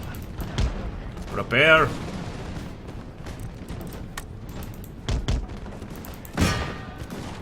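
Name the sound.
musket volleys firing in video game Imperial Splendour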